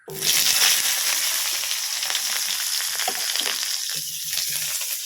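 Small onions fry in hot oil in a pan right after chillies were roasted in it, making a loud, steady, close sizzle that starts abruptly and holds throughout, with a few faint utensil clicks and no talk.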